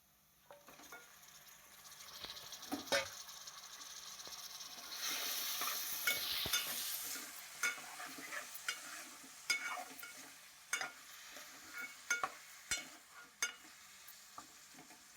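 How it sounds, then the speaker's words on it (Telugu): Mutton frying in a pan, a quiet sizzle that swells into a louder hiss midway, punctuated by repeated sharp spatula scrapes and taps, no talking. "ఇప్పుడైతే మటన్ వేసేసుకున్నామండి"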